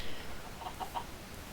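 Minecraft chickens give a few soft, quick clucks in the middle of a faint, quiet game scene, with no talk over them.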